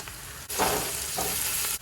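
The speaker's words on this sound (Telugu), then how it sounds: "ఉల్లిపాయ వేగిపోయింది" Sliced onion sizzling in hot oil in a pan with turmeric, a steady close frying hiss with brief stirring swells, no talk.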